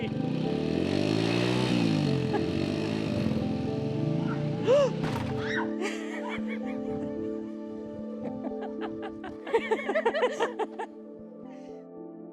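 A motorcycle engine revs in rising and falling pitch sweeps, and the rider's throttle is strong enough to risk a wheelie. Voices and laughter come in the second half as the engine idles on underneath.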